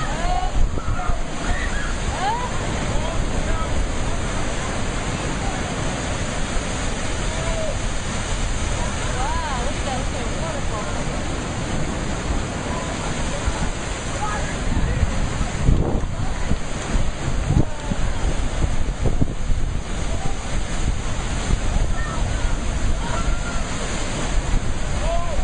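Sea waves wash and break continuously under strong gusting wind buffeting the microphone, a broad roaring rush that swells louder near the end.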